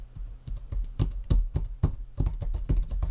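Computer keyboard keys are pressed rapidly and repeatedly while testing key input in a graphics window, a close, steady run of sharp clicking taps with no speech.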